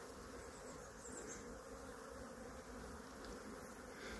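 Honey bees buzz steadily in a dense, continuous hum around beehives in an apiary during active foraging, with no voices present.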